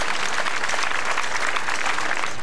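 A crowd applauds at the 2007 Debrecen flower carnival outdoors, a dense, loud, continuous wash of many hands clapping that holds steady throughout.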